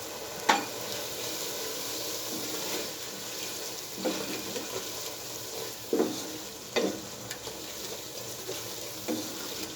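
Roasted crushed cumin and hot red chilli powder sizzle in a pan for a black chickpea curry, a faint steady fry broken by several short scraping stirs at irregular intervals.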